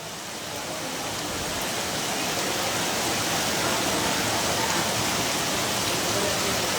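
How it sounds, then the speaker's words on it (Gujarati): Floodwater rushing through the main market of Bantva, a loud, continuous broadband roar of water that fills the whole stretch steadily, with no talking. "આ તો મેઇન બજાર છે તે બાટવાની એની અંદર જળબંબાર પાણી જઈ રહ્યું છે"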